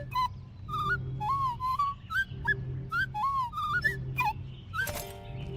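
A character in the video game Tails of Iron whistles gibberish, a string of short chirpy rising and falling whistled phrases in quick succession, with a soft low hum beneath.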